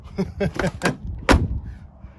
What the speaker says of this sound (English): there we go, the door closes.